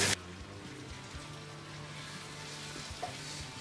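Curry keema with garlic, ginger puree and chopped tomatoes simmering in a pan, a soft continuous bubbling sizzle after a brief loud clatter at the start.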